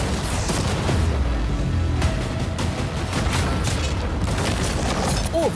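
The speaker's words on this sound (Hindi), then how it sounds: "अब हम तुम्हारी नई यॉट पर कैनन्स को शूट करने वाले हैं" Cannons fire on a new yacht, their balls tearing through it and shredding storage containers, a continuous loud barrage of booms and crashing impacts with no pause throughout.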